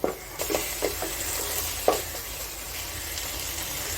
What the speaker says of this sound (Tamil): இப்போது இதை நல்லா மிக்ஸ் பண்ணலாம்.